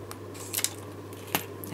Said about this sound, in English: I'm just going to finish mine off with scissors.